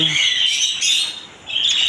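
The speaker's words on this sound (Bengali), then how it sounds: "এদিকে পেয়ে যাবেন জাপানিজ বাজরিকা পাখি" Japanese budgerigars squawk and chirp in close, loud bursts at a rural bird and pigeon market, with overlapping shrill calls and a brief pause before the chatter resumes.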